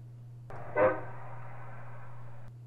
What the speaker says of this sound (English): blowing his air horn third morning in a row